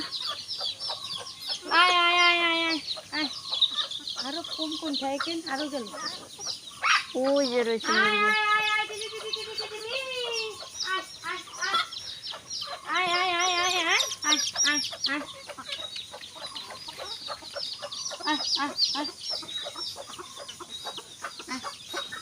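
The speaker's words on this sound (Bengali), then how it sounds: "দেখো সব মুরগিগুলো এক জায়গায় আসছে খাওয়ার জন্য" Several free-range chickens cluck and squawk nearby in bursts while being fed in the afternoon, a duck among them, while a person talks over them.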